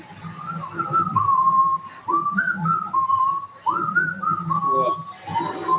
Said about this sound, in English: I feel like whistling a little